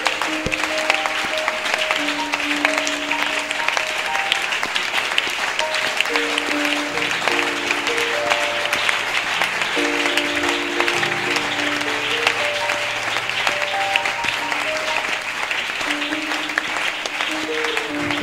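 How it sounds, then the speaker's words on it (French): A church congregation claps and cheers for Jesus during a French-language worship service, steady sustained applause with sung or held tones running underneath throughout. "Est-ce qu'on peut acclamer pour Jésus?"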